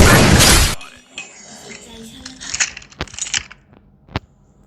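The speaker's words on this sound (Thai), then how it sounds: "ผมได้ยินเสียงกระจกแตก" A loud burst of shattering glass in Call of Duty opens, followed by scattered clinks, thuds and faint game sounds with brief voices.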